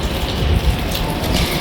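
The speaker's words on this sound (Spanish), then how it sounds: "Está lloviendo, qué día más lindo." Steady rain falls outside on a balcony of a rented flat in Spain, a continuous close patter and wash of drops with no voices over it.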